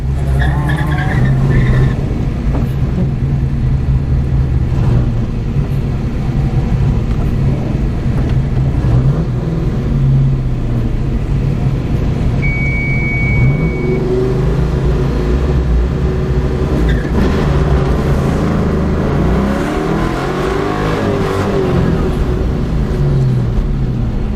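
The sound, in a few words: race car launching from the start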